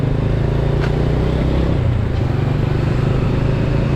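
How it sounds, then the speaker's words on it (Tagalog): A motorcycle engine runs loud and close while riding through Manila streets, a steady low rumble with a noticeable shift in pitch midway as the gear changes roughly, with some clatter over the drone. "Bakit gano'n ang aking motor?"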